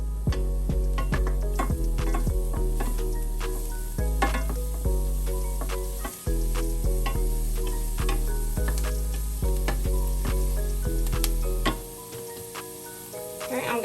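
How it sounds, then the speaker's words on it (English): Onions sauté in a pan for coconut rice with a constant sizzle under a loud, tonal hum, with frequent sharp clicks and stirring taps from a utensil, close by. "See, it's sauteing right now."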